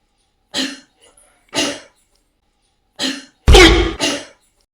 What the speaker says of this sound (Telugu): దగ్గు గట్టి.